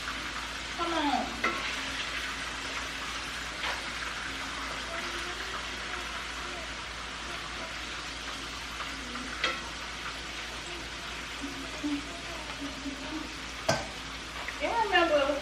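Oxtails in gravy sizzle and bubble in a pot on the stove while a spoon stirs and scrapes through them, a steady close cooking sound with occasional clinks and a voice speaking briefly in the background.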